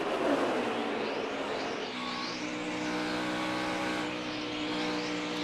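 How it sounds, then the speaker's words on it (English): NASCAR Cup Series stock cars roar past on the oval during the Gander RV 400, a loud continuous engine drone with rising and falling pitch as several cars pass close by, no talk. "Harvick going by the 9 of Chase Elliott"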